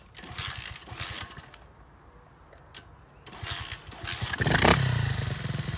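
A Demon DXR 125 pit bike engine sputters through repeated kick-start attempts, catching in short bursts before it fires and revs up loudly near the end, close by with no talk.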